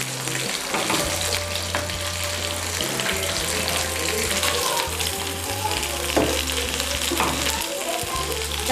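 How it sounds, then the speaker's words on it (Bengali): Potato roll samosa snacks frying in hot oil give a dense, steady sizzle that runs the whole time with no pauses, close and fairly loud, alongside a faint low hum. "তেল গরম হয়ে গেছে। এবার স্ন্যাক্সগুলো একে একে ভেজে নেব।"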